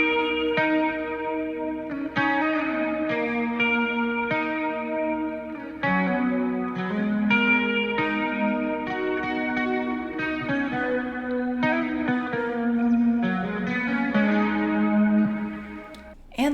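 A guitar plays a counter melody for a smooth R&B/trap beat, drenched in distortion, chorus and echo, notes overlapping in a continuous, shimmering flow for over fifteen seconds.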